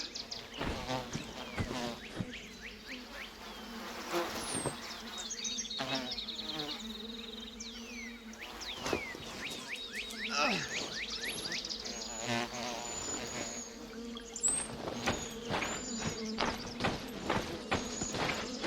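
Swarm of stinging insects buzzing around a hive in the video game The Vale, a dense, continuous droning hum with shifting pitches, joined by scattered thuds and hoof-like clops.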